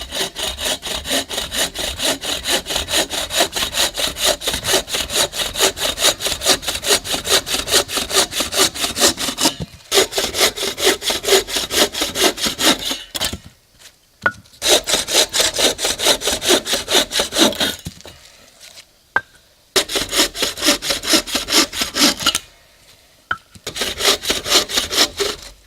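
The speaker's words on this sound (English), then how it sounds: "I got what, four pieces of pretty dry wood, so I'm just gonna cut it up and process it" Four pieces of dry wood are sawn at a solo overnight base camp: close, steady rhythmic strokes in long runs, broken by short pauses between cuts.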